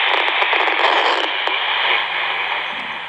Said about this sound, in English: If the coupling is too loose, it's noisy like this